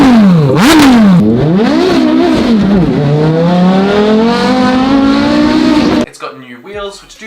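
Porsche Carrera GT with straight pipes revving hard, a loud rising and falling high-pitched wail through several blips before cutting off, followed by brief talk.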